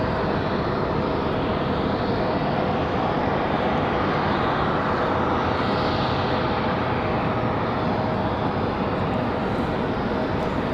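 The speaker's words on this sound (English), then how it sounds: "Will this A220 be a nice climb out?" An Airbus A220 jet climbs out after takeoff from Raleigh-Durham airport, a loud, unbroken engine roar with a thin steady whine running through it, sustained at close range without any voices.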